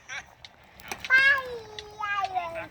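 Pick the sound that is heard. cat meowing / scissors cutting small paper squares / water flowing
cat meowing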